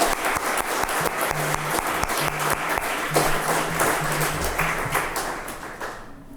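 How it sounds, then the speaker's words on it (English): Audience applause at a Sierra Madre State of the City event, many people clapping steadily and loudly for several seconds, with scattered louder individual claps and faint background voices. "Please give them a round of applause as well."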